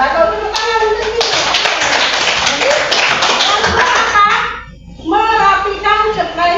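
A class of children claps together in a classroom, a dense burst of quick clapping that stops abruptly, followed by a voice.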